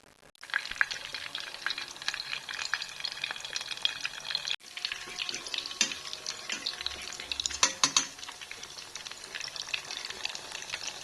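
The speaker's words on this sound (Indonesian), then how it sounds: "Aku goreng lagi." Milkfish (bandeng) fries in a pan of oil with a steady, close sizzle and crackle, broken by occasional stirring and utensil scrapes, with no talk.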